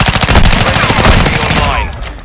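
Heavy automatic gunfire in Call of Duty Modern Warfare II, loud and close, a dense rattling stream of shots that carries on continuously and fades slightly at the very end.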